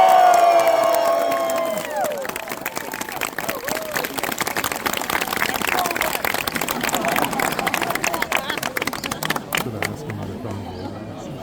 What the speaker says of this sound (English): If you've enjoyed the tour, then please feel free to cheer and clap.